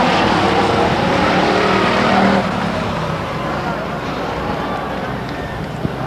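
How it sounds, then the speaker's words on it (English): Race cars roar at Stockton 99 Speedway as the field takes the checkered flag, a loud steady engine drone that eases slightly partway through, with a commentator talking over it. "And around for the checkers, the 75 car, Chad Holman"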